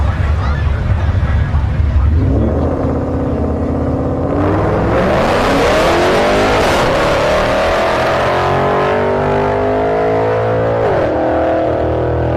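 A Ford Mustang makes a solo pass at a no-prep drag race at Orlando Speed World, its engine idling roughly before a loud launch and a long rising revving roar past the listener, with crowd babble underneath.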